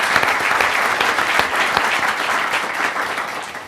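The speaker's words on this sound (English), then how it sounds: "let's give the president a round of applause for his great work" An audience claps steadily for the president after remarks at the launch of a STEM scholarship program, a dense, even wash of applause that holds strong throughout and fades slightly at the end.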